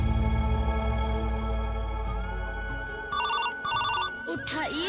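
A telephone ringtone goes off nearby in two short, repeated electronic bursts, cutting over a steady background of music and hum, with a voice faintly present.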